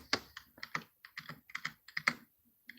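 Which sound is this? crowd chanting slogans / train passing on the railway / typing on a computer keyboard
typing on a computer keyboard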